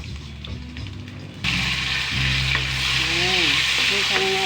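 Tomatoes sautéing with chicken in a pan for ginisang upo, a steady sizzle that suddenly swells louder and hissier partway through, with stirring clinks and faint tonal squeaks on top; no talking.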